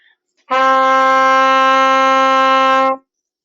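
A trumpet sounds a single sustained D fingered with valves 1 and 3, one steady, loud, clean tone held for about two and a half seconds, alone after a short silence.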